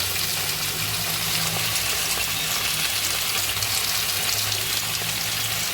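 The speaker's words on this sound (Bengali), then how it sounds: "হলুদ দিয়ে এবার এইগুলোকে ভালো করে আমি ভেজে নেব" Mixed vegetables fry in a pan with black cumin seeds, dried chili, salt and turmeric, giving a soft, even sizzling hiss that continues at a moderate level without a break.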